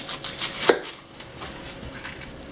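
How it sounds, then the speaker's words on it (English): A kitchen knife cuts the ends off an onion on a cutting board, giving one sharp close chop followed by a few softer knife taps, with no talk. "I'm going to slice up the onion. So I'm going to first cut off the 2 ends here"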